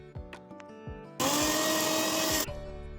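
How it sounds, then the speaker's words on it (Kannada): A mixer grinder blending spices and turmeric powder roars loudly for about a second and a half, then cuts off, with clattering kitchen sounds before and after. "ಇದೆಲ್ಲವನ್ನು ಹಾಕೊಂಡು ಮಿಕ್ಸಿ ಮಾಡ್ಕೊಳ್ಳಿ."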